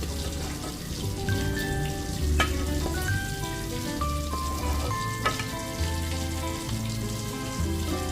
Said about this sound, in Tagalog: Tapos haluin natin siya.